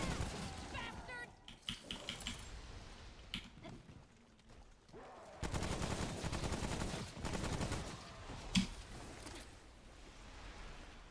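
Gunfire from a weapon in the video game Remnant from Hell, delivered as bursts of rapid shots mixed with clicks, with a longer sustained stretch of firing midway and a voice speaking at times.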